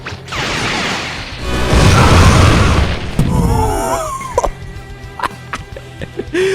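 Heavy artillery blasts in the fighting game Xenoverse 2: a long, loud rumbling barrage of booms and crashes, then a whooshing sweep and scattered sharp pops and impacts as the chaos settles.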